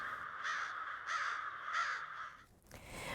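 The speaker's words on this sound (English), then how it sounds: "But crow communication is a little bit more guttural" Crows call to keep in touch with neighbours: three harsh caws in an even rhythm at moderate distance, followed by a brief rustle.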